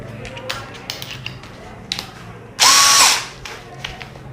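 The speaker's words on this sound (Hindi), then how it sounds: "चलिए तो अब हम इन प्लेट्स में लगाते हैं सेल्फ ड्रिलिंग स्क्रू।" Brushless cordless drill driving a self-drilling screw into a metal plate, one loud close whir lasting about half a second that winds down, after a stretch of quiet handling clicks and ticks.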